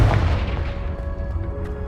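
A Confringo blasting spell detonates in Hogwarts Legacy with a loud, close boom that rolls into a decaying rumble and ringing tail, with no talk over it.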